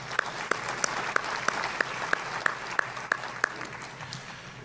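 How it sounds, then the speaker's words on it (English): A luncheon crowd at a Chamber of Commerce gathering claps together in a sustained round of applause, with a few sharper, louder claps standing out against the steady patter. "Let's give them all a big round of applause."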